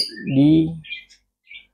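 A white-rumped shama (murai batu) gives a short, clear whistled note, then a few faint, high chirps follow with brief gaps of silence between them.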